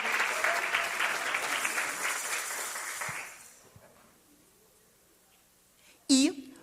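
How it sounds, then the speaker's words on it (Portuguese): Audience applause at a panel discussion, a dense burst of clapping for about three seconds that fades out, followed by quiet and then a brief, sharp, ringing sound near the end. "Por favor, mais uma salva de palmas."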